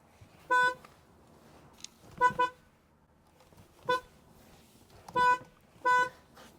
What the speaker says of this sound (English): you can't get in and out of this car without honking the horn